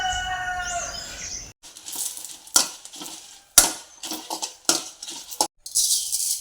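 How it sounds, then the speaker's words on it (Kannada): A spoon scrapes and stirs in a pan in short repeated strokes, with sharp clinks of metal over a light sizzle of raw rice frying in a little oil. "ಬಾಣಲೆಗೆ ಸ್ವಲ್ಪ ಎಣ್ಣೆ ಹಾಕಿ ಒಂದು ಎರಡು ಸ್ಪೂನಷ್ಟು ಬೆಳ್ತಿಗೆ ಅಕ್ಕಿ ಹಾಕಬೇಕು ಅದನ್ನು ಸ್ವಲ್ಪ ಫ್ರೈ ಮಾಡಬೇಕು"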